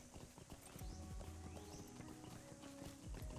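Horse hooves clip-clopping as a character rides in an online video game, a steady run of close, rhythmic hoof beats with no talk.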